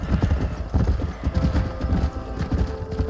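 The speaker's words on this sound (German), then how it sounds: "Wie soll man denn die Pferde zusammentreiben?" Horses in the video game Red Dead Redemption: loud, close hoofbeats in a rapid galloping clatter, with a neigh rising among them and no talking.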